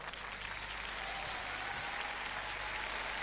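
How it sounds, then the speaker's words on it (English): An audience at a beauty pageant grand finale, Femina Miss India 2001, applauds a contestant with dense, sustained clapping that stays loud and even throughout, with no speech on top. "Round of applause for Kawal."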